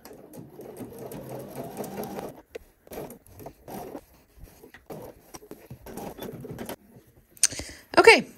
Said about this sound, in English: now I want to sew up the rest of this hole.